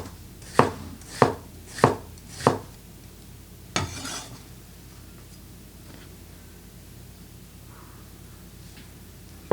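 Four evenly spaced knife strikes on a board as an onion is sliced thin, followed by a louder clatter and then quiet kitchen background.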